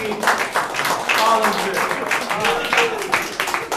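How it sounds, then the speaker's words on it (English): A crowd claps in a steady burst of applause while a person speaks over it. "Big round of applause"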